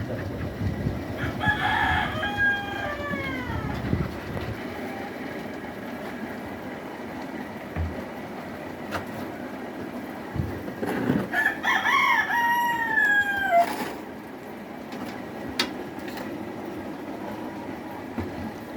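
Native desi chickens at a rural poultry keeper's: a rooster crows twice, long drawn-out cock-a-doodle-doos with a pause between them, over steady ambient noise and faint clucking.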